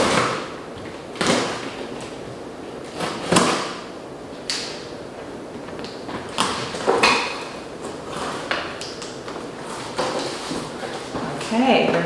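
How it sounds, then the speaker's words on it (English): Cardboard packaging for a Can-Am Ryker windshield is torn and pulled open, giving close rustles, scrapes and hollow knocks at irregular intervals, with a voice speaking now and then. "let's go ahead and get this unboxed"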